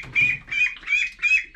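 A duck quacks four times in a row, with short regular calls at close range. A little low rustling sits under the first call, and no one speaks.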